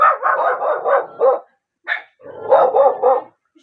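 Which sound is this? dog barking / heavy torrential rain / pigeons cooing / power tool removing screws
dog barking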